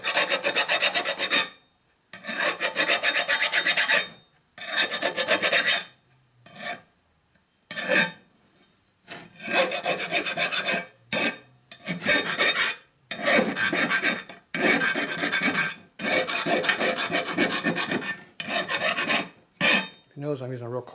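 Coarse file rasping across a metal part on a 1957 Harley panhead cylinder head, in repeated bursts of hard strokes of roughly a second or two each, separated by short pauses, close and loud with no talking.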